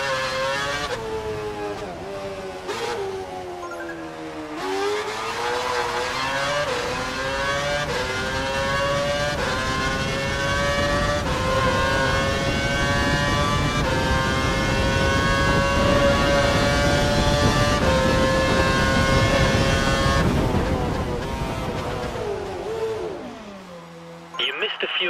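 An F1 race car in the video game F1 2012 revs and accelerates through the gears, its engine whine climbing and dropping loudly and steadily throughout, with a voice talking over it.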